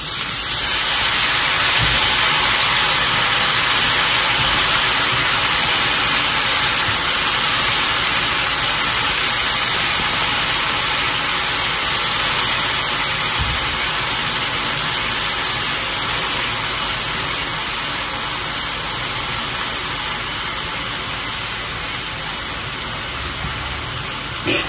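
Washed chai mohar leaves drop into masala fried with onion and turmeric, setting off a loud, steady sizzling hiss that holds evenly for the whole stretch and eases off only slightly toward the end.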